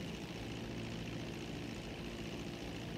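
Airplane engine droning steadily in flight in the video game GTA Online, a continuous propeller-engine hum at low, even volume with no breaks and no talking.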